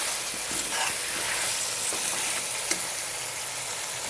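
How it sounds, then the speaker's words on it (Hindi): Garlic-ginger and green chili paste frying in a karahi for chicken karahi, a steady broadband sizzle with faint stirring scrapes, continuous and close with no talking. "और लहसुन अदरक का पेस्ट और सब्ज़ मिर्च का पेस्ट डाला। इसे हम अच्छी तरह भूनेंगे। इसे हम अच्छी तरह फ्राई करते हैं।"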